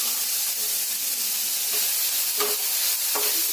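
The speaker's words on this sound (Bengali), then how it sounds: "দিয়ে দিতে হবে টমেটো কুচি," Chopped tomato and garlic hit a hot frying pan with a loud, continuous sizzle, close up, with a few soft stirring scrapes breaking through the hiss.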